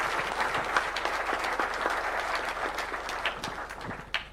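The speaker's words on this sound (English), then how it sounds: "Please, let's put our hands together for a round of applause." An audience at a Kenyan investors' forum gives a round of applause, a dense, even wash of many hands clapping that holds steady for several seconds with a faint low hum beneath.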